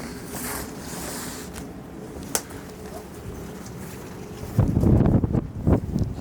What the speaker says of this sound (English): Back out into the wind.